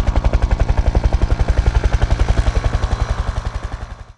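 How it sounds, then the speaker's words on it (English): A police helicopter's rotor chops loudly in a rapid, even beat, close by, gradually fading a little at the end. "Police helicopter."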